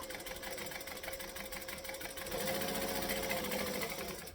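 A sewing machine runs steadily while stitching fabric, a continuous rapid mechanical whirr and clatter that picks up slightly partway through and stays close and fairly quiet.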